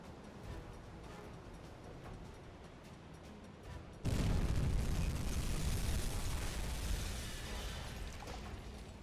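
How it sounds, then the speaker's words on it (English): Torpedo strike on a ship in the submarine game UBOAT: a quiet low rumble gives way to a sudden loud, broad explosive blast that sustains as a heavy roaring boom before easing slightly. "So 1 torpedo should be enough, hopefully, to send her down this time. So tube 3, fire away."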